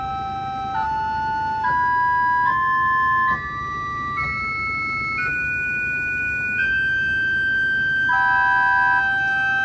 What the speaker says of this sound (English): Next finally, we have a sesquialtera. It is a 2-foot, as you would expect. It's a mixture. Let's try it on its own.